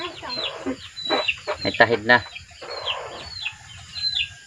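Several soft clucks and chatter from a red junglefowl, close by, coming in short bursts, with a person speaking briefly in between.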